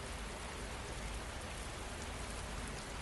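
Steady rain pours down without pause, a dense, even hiss of drops on surfaces that fills the whole stretch at close range, with no voices or thunder.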